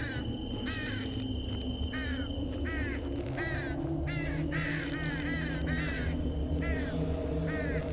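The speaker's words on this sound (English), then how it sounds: "Stupid bird." A crow caws repeatedly in short, hoarse bursts, fairly close, over a steady outdoor background of insects and ambient hum.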